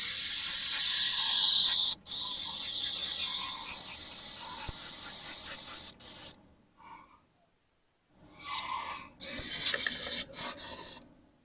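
An airbrush sprays paint in loud, hissing bursts, with short pauses and one longer silent gap between the sprays.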